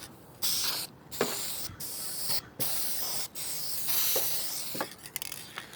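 An aerosol can sprays clearcoat paint onto a car in several bursts, each a loud close hiss lasting about a second or more, separated by brief gaps, with faint clicks between.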